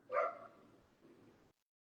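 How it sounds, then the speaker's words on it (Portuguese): Several neighborhood dogs bark in a short burst, the first bark loud and close, then fainter yips and barks trailing off at a distance. "se está muito barulho aqui dos cachorros do bairro"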